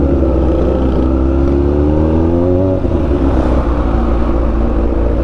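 Dense city road traffic in Dagupan City, heard from a sportsbike, with a steady loud engine rumble and idling motors, one engine's pitch rising in a rev before settling back into the continuous drone.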